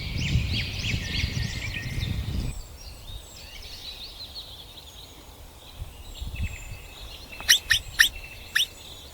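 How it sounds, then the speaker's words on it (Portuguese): Flocks of birds call and chirp outdoors in the Pantanal wetlands, a busy layered chorus at first, then sparser, with a few sharp nearby tweets near the end. "Os pássaros voavam em bandos, chamando uns aos outros no céu claro"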